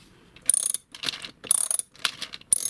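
A standard ratchet wrench turns a universal extension wrench, giving four or five crisp bursts of rapid clicking separated by short pauses, close and loud with no talk.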